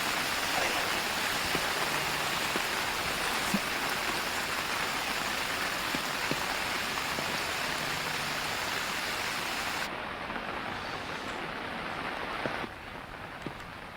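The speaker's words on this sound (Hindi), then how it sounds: "दिल्ली एनसीआर समेत उत्तर भारत के कई इलाकों में पिछले 3 दिनों से लगातार बारिश हो रही है" Steady rain falls across Delhi during several days of continuous monsoon-season downpour, a dense, even hiss that stays loud throughout and thins slightly near the end, with no voices.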